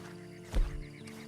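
A single short horse snort or neigh in Red Dead Redemption 2, faint and close, over a quiet steady game background.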